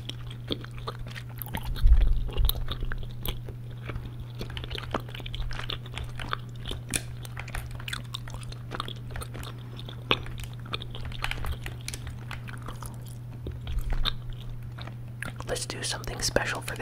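Close, ear-to-ear gum chewing with soft wet smacks and crunches repeating steadily, mixed with whispering and a constant low hum while Fortnite is played on PC.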